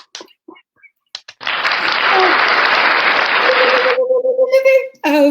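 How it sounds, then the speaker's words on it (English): Small group clapping together during a menopause day chat, a burst of steady clapping lasting about two and a half seconds, framed by scattered speech and a sustained tone before talk resumes. "So let's all do a little clap."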